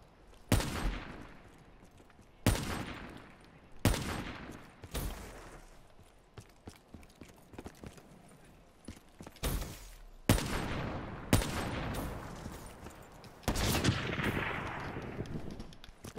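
Several loud, sharp shots from a shooter video game land at irregular intervals, each one decaying into a short rumble. Fainter noises fill the gaps between them.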